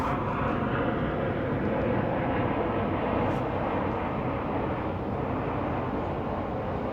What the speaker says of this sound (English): there's a lot of aeroplanes today